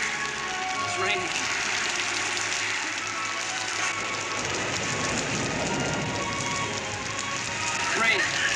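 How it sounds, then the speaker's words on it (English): Steady rain falls continuously, a dense hiss of drops on surfaces holding throughout, with some faint voices or other noise mixed under the wash. "It's raining."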